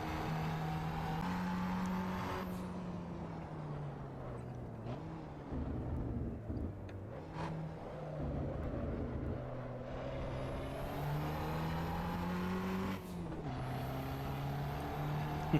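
A car engine in the Assetto Corsa EVO racing game drones steadily at a moderate, continuous level, its pitch rising and dropping through shifts and revs with short breaks between gears.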